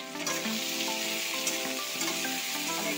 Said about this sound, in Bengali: আমি একটু ভালো করে কষিয়ে নেবো